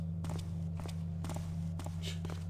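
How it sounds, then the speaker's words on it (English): A guard's footsteps in the stealth game Thief, echoing from near a garden door: a steady series of soft, evenly spaced steps over a constant low ambient hum, with no speech. "Sounds like footsteps from the garden door there."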